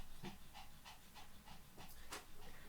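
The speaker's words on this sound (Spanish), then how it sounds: "Si oyen unas patitas, mi perrito me vino a saludar" A small dog pants rhythmically close by in a quiet room, with quick soft breaths and faint pattering paws heard in brief bursts.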